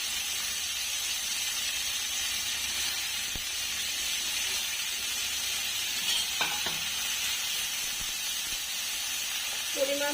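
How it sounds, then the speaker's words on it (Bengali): Cabbage fries in a pan with a steady, loud sizzle and hiss that runs throughout, broken by a few faint clinks and scrapes of stirring near the end. "পাতাকপিটা ভেজে নেব।"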